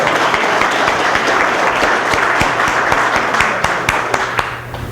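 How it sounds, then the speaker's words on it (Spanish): An audience applauds at a lecture, a dense and loud wash of clapping that holds steady, then thins slightly near the end, with no voices over it. "Tomo estos aplausos como reconocimiento de la valentía que es necesaria para poder hablar luego"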